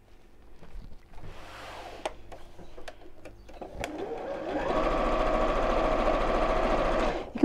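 Sewing machine stitching fabric patches together for a four-patch cushion cover, a few handling clicks and taps at first, then a steady fast mechanical whir of stitching close by.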